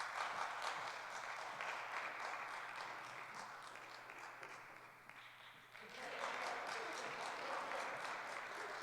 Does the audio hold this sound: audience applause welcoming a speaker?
yes